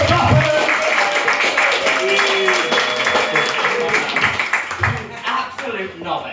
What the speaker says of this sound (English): if we can start some clapping over here